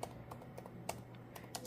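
Keys clicking on an HP Pavilion x360 laptop keyboard with an Intel Core i5, several quick, light, irregular taps over a soft steady hum, close and faint, with no talking.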